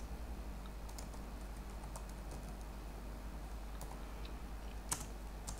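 Java code being typed on a computer keyboard, a steady stream of light, close key clicks with a few sharper taps over a constant low hum, and no talking.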